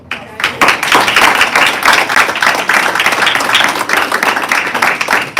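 Audience claps at a public school board meeting, dense, close, steady applause lasting about five seconds with distinct individual hand claps throughout.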